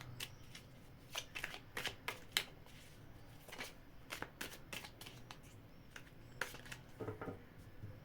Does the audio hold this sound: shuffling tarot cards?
yes